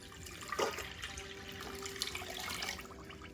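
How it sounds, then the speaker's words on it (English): Water splashes from a stream into a saucepan of white sugar on a stove over high heat, a soft, brief pouring sound with a faint ringing tone. "we're going to add in 2 cups of water"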